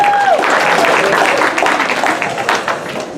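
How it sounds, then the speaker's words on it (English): Applause from the audience at a comedy hypnosis show, a loud, full burst of clapping that trails off gradually, with a brief tone and some speech-like sound near the start. "Give her a round of applause."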